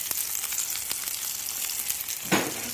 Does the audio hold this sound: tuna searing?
yes